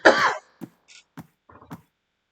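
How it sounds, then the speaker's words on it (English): A man pauses his Minecraft hardcore commentary to cough once, loud and close, then follows with a few faint, short throat-clearing sounds, with no talking. "Oh, excuse me. A cough."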